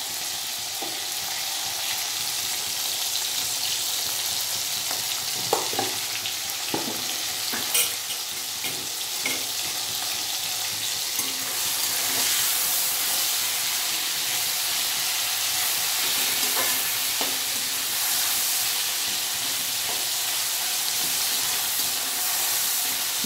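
Tomato with salt fries in a pan, giving a continuous soft sizzle and hiss, with occasional scraping and tapping as it is stirred throughout.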